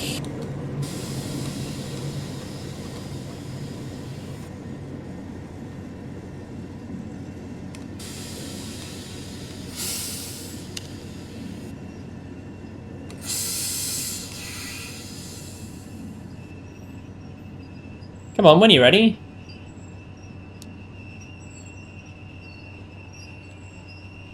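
Train Sim World 4 German regional express running on the Maintalbahn, with a steady low rumble, brief air-brake hisses, and a sharp burst of wheel squeal near the end under a full service brake application; one voice speaks briefly.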